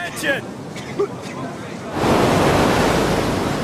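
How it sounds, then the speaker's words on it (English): Ocean surf breaking on a beach during Navy SEAL BUD/s training, with small waves; broadband wash swells up loudly halfway through and continues as a steady roar, with brief voices and wind noise before it. "Right now it's a little small. We saw some bigger waves earlier this morning."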